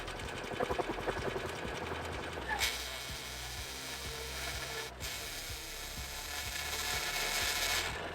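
A Swardman reel mower's quiet motor runs steadily, its close, continuous drone layered with a busy, rapid rattle and clicking shake from loose metal parts.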